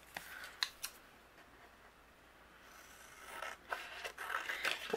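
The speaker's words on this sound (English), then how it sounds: "all I'm going to do is use my scissors" A few quick, crisp scissor snips, then a longer stretch of soft cutting and rustling as cardmaking paper is trimmed after die cutting, close and fairly quiet.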